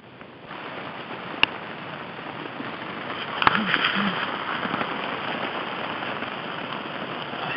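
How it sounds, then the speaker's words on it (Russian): Light rain falls steadily during a bream fishing trip in Germany, a soft continuous patter with a couple of sharp clicks, and a voice briefly murmuring in the background. "Легкий дождь, но я мокрый."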